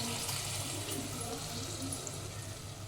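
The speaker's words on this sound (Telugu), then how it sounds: "చింతపండు రసం పోసుకోవాలి." Tamarind juice pours steadily into a cooking pot of veg kaddu dalcha, a bottle gourd dish with ginger and garlic, making a close, continuous liquid rush for about three seconds.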